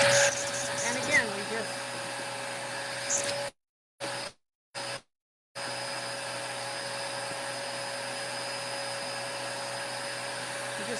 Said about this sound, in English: this time we're going to clean up with the hose for the sweeper